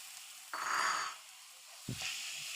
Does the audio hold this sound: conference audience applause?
no